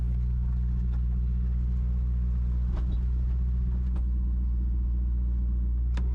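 An abandoned Mercedes car drives through a swamp. Its engine gives a steady, close, low rumble throughout, with a few faint clunks and rattles and no talking.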